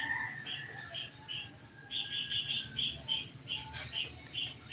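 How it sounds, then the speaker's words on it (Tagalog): Chickens on a backyard farm in Albay, Bicol, give faint, high, repeated peeping chirps in short bursts over a low, murky background. "Yan, maraming chicken."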